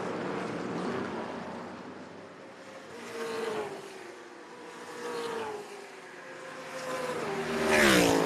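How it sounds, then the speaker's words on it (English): Onboard a Trans Am race car during a race at Canadian Tire Motorsport Park, the engine drones loudly and steadily, rising and falling in pitch through gear changes, with other cars nearby. "we remain on board with Chris Dyson trying to run down the 31 of Paul Menard, who has led since the drop of the green flag"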